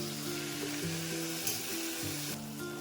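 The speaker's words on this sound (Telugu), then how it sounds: "మనం రెండు చెంచాల పెరుగు అయితే వేసుకుందాం వేసుకుని బాగా వేయించుకుందాం" A curry sizzles steadily in a pan after yogurt is added and stirred in, a soft continuous frying hiss with faint background music and no talking.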